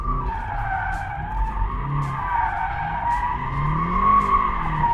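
The tyres of a 2020 BMW M8 Competition squeal loudly and continuously as it skids with the car switched into two-wheel drive, the engine droning beneath a wavering, sustained screech.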